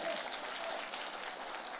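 A church congregation applauds with dense, continuous clapping that holds steady and moderately loud throughout.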